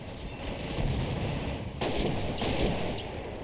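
Gunfire and grenade blasts in a video game battle form dense, continuous combat noise, with two sharper bursts of explosion standing out partway through.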